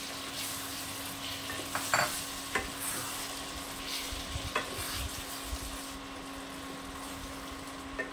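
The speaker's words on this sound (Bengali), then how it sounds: "এখন দিয়ে দেবো এর মধ্যে আর কটা কারি পাতা, সাথে দিয়ে দেবো ডিমগুলো।" Curry leaves and eggs go into a sizzling pan for a Kerala-style egg curry, giving a constant close frying hiss with a steady hum and a few sharp clinks and stirring knocks.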